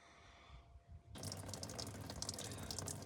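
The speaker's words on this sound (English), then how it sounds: "I got the fuel hose loose and it's leaking a bit, but most of the fuel ends up in the container" Fuel trickles and splashes steadily from a loosened fuel hose into a container while a fuel tank is cleaned out, a constant close pouring sound starting abruptly after a short quiet moment.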